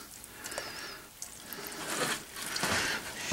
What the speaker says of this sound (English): the other thing I'm happy about is I get to turn my water back on